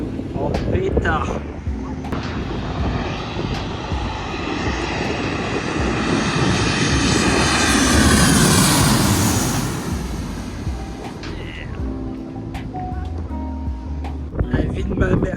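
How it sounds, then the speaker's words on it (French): A small airplane powers past on a windy airfield, its engine drone swelling to a loud roar overhead and then fading, with wind buffeting the microphone and people talking nearby. "on a fini de voir les petits avions qui se posent et qui partent"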